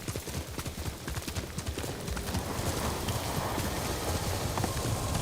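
Rapid galloping hoofbeats of a horse in Ghost of Tsushima on PS5, close and driving, a dense drumming rhythm over wind and ambient noise, with no talking.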